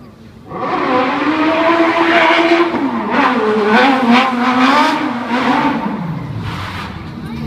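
A stunt car's engine revs hard and roars continuously for several seconds at a live stunt show at Disney Hollywood Studios, with tires squealing and skidding, loud and close, before the sound eases off.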